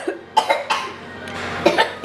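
A child or adult coughs in several harsh bursts in a home kitchen while Korean noodles are being cooked, the hacks coming in two clusters close to the listener, with no talk in between.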